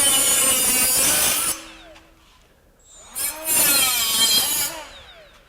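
A Milwaukee M12 FUEL 1/4-inch straight die grinder cuts in two loud, close bursts of high-pitched grinding whine, split by a quiet gap where the motor spins down and briefly revs again.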